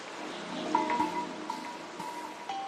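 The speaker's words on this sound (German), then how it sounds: "Einsam und reißend sucht sich der Bach seinen Weg durchs jahrmillionenalte Waldgebirge." A rushing stream in the Spessart forest mountains, a steady close wash of flowing water with faint splashes and gurgles, no voices.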